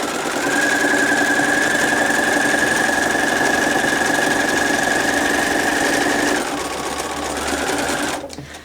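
A sewing machine runs continuously on a dinosaur quilt panel block, a steady close whirring hum with a high motor whine that drops off after several seconds, followed by lighter handling noises.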